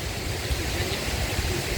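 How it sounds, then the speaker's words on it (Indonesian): Kandauna waterfall pours in a steady, loud broadband rush of falling water, continuous and close throughout with no break. "akhirnya kita sampai di air terjun Kandauna"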